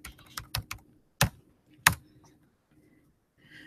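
Computer keyboard being typed on, a few quick close key taps followed by two sharper isolated clicks, then quiet.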